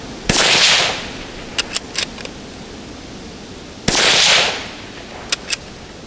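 Two sharp rifle shots from a Marlin 25 MN fired at targets outdoors, each a loud crack with a rolling echo tail, spaced a few seconds apart, followed by faint distant clicks and taps.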